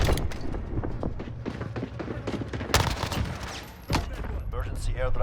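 Rapid automatic fire from a sentry gun in a first-person shooter, with dense bursts of shots and thuds under game effects and a talking voice.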